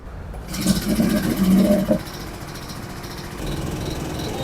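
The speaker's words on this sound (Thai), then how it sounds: "เพ่นจะทำการเปิดเครื่องละ" A farm machine engine sputters and catches, running with a rough mechanical drone and a slight rise in revs before settling into a steady idle, close and fairly loud.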